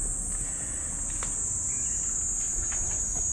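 Cicada in Tochigi, Japan, shrilling as a steady high-pitched drone throughout, continuous and fairly loud over faint outdoor background noise with a few soft clicks, no talk.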